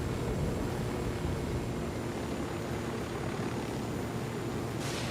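A helicopter flies in the video game Ghost Recon Wildlands, a steady dense rotor and engine roar holding constant at close range throughout.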